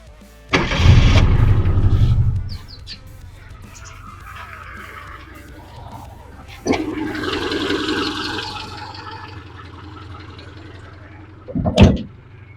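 A car converted to run on LPG gas, with the tank in the trunk, cranks and fires with a loud burst, then settles into a quieter idle, with a sharp knock or door-like thud near the end.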